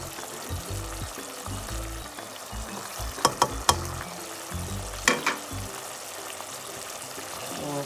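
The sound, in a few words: frying dry spices with tomatoes in a pan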